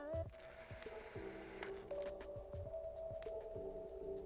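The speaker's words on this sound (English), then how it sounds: "We'll now fix the second screw, which holds the tilt bracket in place." A screw driven in with a ratcheting driver to fix a tilt bracket on a cabinet, with quiet repeated mechanical clicks and ratchet turns close by, without talking.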